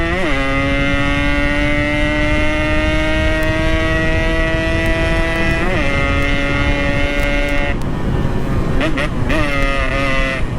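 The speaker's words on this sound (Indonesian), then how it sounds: "Ini knalpot bener-bener enak banget sih." A Yamaha RX-King two-stroke motorcycle exhaust while riding, a steady buzzing drone that rises and holds as the engine revs, close and loud against wind rush, with short gear-change dips near the end.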